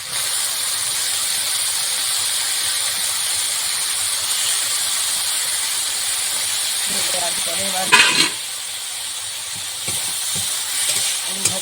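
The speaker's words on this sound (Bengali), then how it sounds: "এবার এই মোচাগুলো সব কষানো মশলার মধ্যে দিয়ে দেওয়া হবে" Boiled banana flower going into a pan of hot sautéed spices for mochar ghonto: a continuous steady hiss of steam, broken by a brief louder splash and clatter as it is tipped in.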